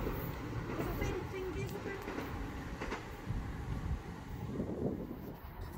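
CrossCountry diverted train passing through Duddeston station, a distant, steady rumble of wheels and rolling stock with faint rail clatter running through the whole stretch.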